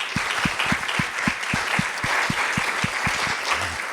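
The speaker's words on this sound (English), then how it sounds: "Can we give them a round of applause?" Audience applause at a Los Angeles County hospital leadership event, a sustained crowd clapping at steady volume for about four seconds with no talking over it.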